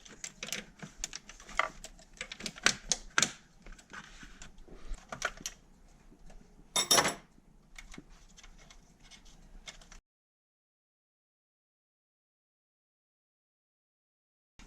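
Quick runs of small metallic clicks from a quarter-inch socket ratchet backing out 11 mm valve cover bolts on a BMW 335i N54 engine, close and crisp in bursts, then silence.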